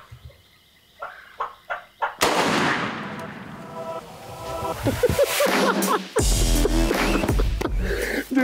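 A shotgun fires a TSS load at a wild turkey during a hunt by a pond, a single loud blast after a few gobbles and faint calls, followed by excited talking.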